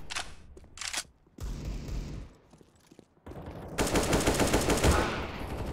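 Sustained automatic AK rifle fire in the shooter game CS:GO, loud bursts and rapid rattling volleys with short gaps, closing in a long continuous stream of shots.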